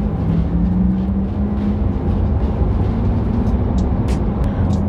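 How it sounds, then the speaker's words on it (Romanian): Synthetic acceleration sound played through the cabin speakers of a Porsche Taycan electric car, a steady loud hum with low tonal layers rising slightly, heard alone without talk. "ascultați pe fundal sunetul din boxe creat de Taycan, ca să simuleze așa accelerația"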